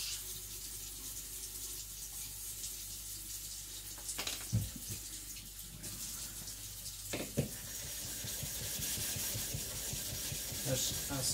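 A custom knife blade is worked across a 1000 grit whetstone to flatten it, giving quiet wet scraping strokes, sparse at first, then a quicker rhythmic back-and-forth rubbing.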